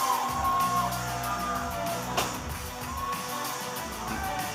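A wrestling crowd at the Davis Arena in an OVW broadcast cheers for the wrestler Queen of the North, making a steady, dense roar of yells and whoops that holds level throughout.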